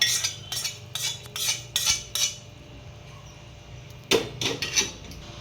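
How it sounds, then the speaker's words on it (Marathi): A spoon scraping and clinking in a pan while stirring hot sugar syrup into a dink, kharik and coconut laddu mixture, a run of five sharp strokes, a pause, then three more, close and fairly quiet. "चमच्याच्या साह्याने आपण हे मिक्स करून घ्यायचं आहे"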